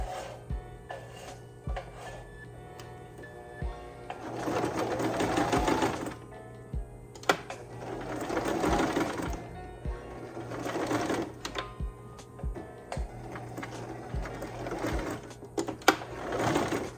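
A sewing machine stitches fabric for an easy top in several steady mechanical runs of a few seconds each, separated by brief pauses with handling clicks, close and fairly loud.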